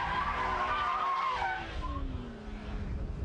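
Tires on a BMW Z3 M Roadster squeal steadily during a power slide on a track, the whine bending downward as the car straightens, with the engine droning underneath.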